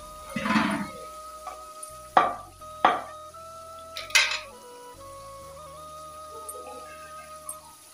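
Metal utensils clang and scrape against a pan as meat and spices fry and pounded green chilies are stirred in, several distinct knocks spread out over a faint low sizzle, with no voices.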